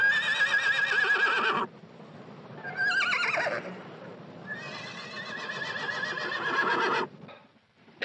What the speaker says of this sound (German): die berühmten Pferde der Puszta